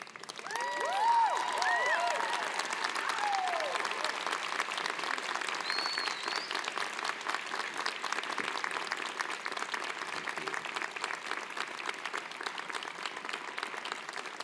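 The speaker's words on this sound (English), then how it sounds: "give them a rousing round of applause" An audience at a medical school commencement claps in a long, dense, steady round of applause that fills the hall, with a few whistles and cheers near the start.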